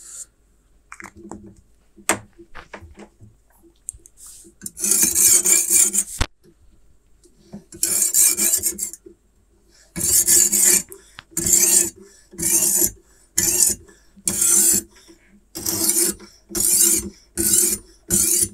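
A knife blade scrapes across a whetstone on a Ruixin Pro RX-008 sharpener in repeated rasping strokes, first slow and uneven, then settling into a quick regular back-and-forth rhythm, close and clear.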